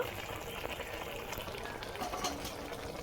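Cooking greens (shak) sizzling and being stirred in a pan, a steady close bubbling hiss with light scraping, no talking.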